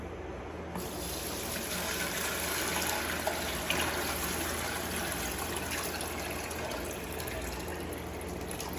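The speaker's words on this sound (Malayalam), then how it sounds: "വെള്ളം ഒഴിച്ചു കൊടുക്കുക." Water pours steadily into a container at home, a continuous gushing, splashing stream that starts abruptly and holds at an even level throughout, with no voices.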